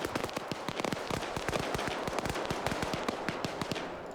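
Rapid autocannon fire in a military video game set on Sahrani, with ZSU anti-aircraft guns nearby: dense, sharp bursts of shots rattling continuously and loudly throughout, with no talk over them.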